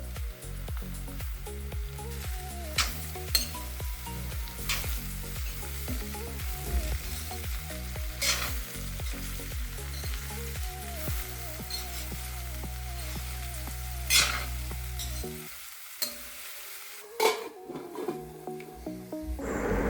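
Sliced bitter gourd frying in hot oil with onion and mustard seeds for a Kerala stir-fry, a steady dense sizzle with crackling pops and occasional scraping stirs, fading near the end before a few final clinks.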